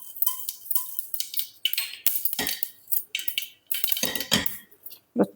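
Mustard seeds hit hot coconut oil in a pressure cooker, crackling and spattering in sharp, irregular pops with light metallic clinks of the pan, some bursts close and loud, with brief quiet gaps between.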